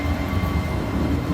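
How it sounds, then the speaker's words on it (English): A Regionale train passes a station in Sicily, giving a loud, continuous close rumble of wheels and motors with no break. "Well, here comes one train."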